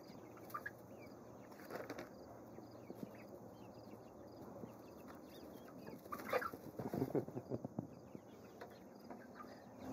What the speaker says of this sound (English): that's the one rooster, the black guy over there. He's a black Sumatra.